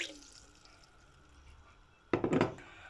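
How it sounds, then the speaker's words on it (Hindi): Water is poured into a pot of sugar to make syrup for balushahi, a short, close splashing pour arriving suddenly after a quiet stretch and ending within a second. "पानी ऐड करेंगे।"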